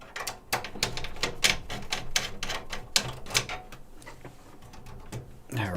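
Metallic clicks, scrapes and rattles come from an expansion card being worked out of a 90s Pentium III PC with a screwdriver, with dense irregular taps close by.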